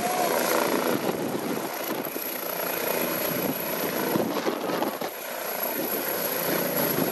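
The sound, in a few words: AgustaWestland AW169 helicopter, Pratt Whitney Canada turboshaft engines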